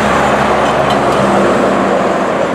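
A Western Star Eagle 100-ton dump truck drives past on a highway, its engine a loud, steady rumble with broadband road and traffic noise throughout, heard from inside a nearby truck cab.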